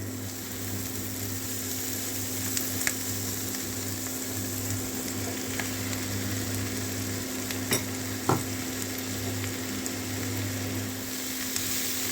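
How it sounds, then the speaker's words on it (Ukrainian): Onion and carrot frying in butter, a constant close sizzle with a low steady hum and occasional light clicks of stirring. "На вершковому маслі я буду смажувати цибулю і морку."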